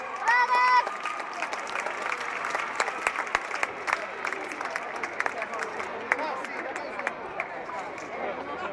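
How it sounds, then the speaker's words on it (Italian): An outdoor summer festival crowd in Iglesias, Sardinia applauds as a performing group arrives, a steady wash of clapping with cheers and chatter, loud and sustained throughout. "Accogliamole con un applauso!"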